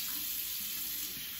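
A bathroom tap runs water onto hands, a short steady hiss of flowing water, close and even throughout.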